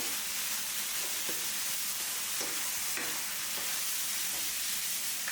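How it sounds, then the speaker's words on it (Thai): Pickled bamboo shoots and minced pork stir-fried over high heat, a loud, continuous hissing sizzle with faint scraping strokes of a spatula, heard up close with no talking. "เมนูนี้เราควรผัดไฟแรงเพื่อให้ใบกะเพรามีกลิ่นหอม"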